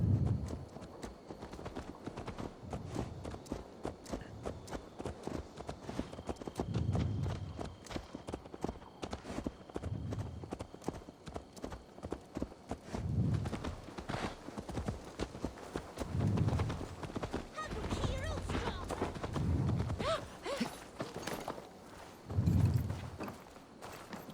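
Horse hooves clip-clop at a steady walking pace in Assassin's Creed Valhalla, clear and close, with faint ambient sound and occasional low thuds in between.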